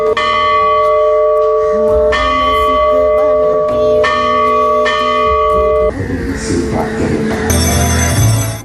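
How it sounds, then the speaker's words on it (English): Church bells tolling at St. Sebastian's Church in a morning memorial for the Easter Sunday attacks, loud ringing strikes every couple of seconds with long sustained hum and overlapping bells. "the church bells at the St. Sebastian's Church tolled, recalling the tragic Easter Sunday attacks"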